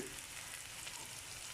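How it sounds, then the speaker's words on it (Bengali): Onions frying in oil in a pan for an egg korma, a soft, steady sizzle heard briefly and faintly, with no talking. "পেঁয়াজটা ভাজা হবে।"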